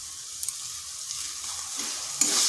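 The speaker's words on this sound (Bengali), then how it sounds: "এটা দিয়ে বেশিক্ষণ কিন্তু নাড়বো না, 3 থেকে 4 মিনিট একটু নেড়ে নিচ্ছি" Onion pieces and coriander leaves stirred in a pan over low heat, a soft steady sizzle with faint scraping and a few light clicks of the spoon, louder near the end.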